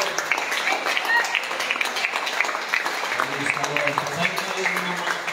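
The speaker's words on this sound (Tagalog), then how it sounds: "palakpak para sa Diyos" A church congregation claps in praise of God, a dense, sustained patter of applause filling the room while a voice speaks over it.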